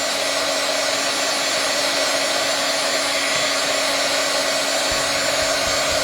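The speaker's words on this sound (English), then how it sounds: "I'm moving my gun quickly so as not to heat up any area super, super hot." A heat gun blowing hot air to dry glitter adhesive on an abstract craft background, a constant loud whirring hiss throughout without a break, no talking.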